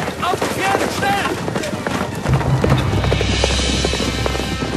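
Horses gallop in a thudding, continuous clatter of hooves that grows louder and denser partway through, with voices shouting over the rush in a dramatized escape scene.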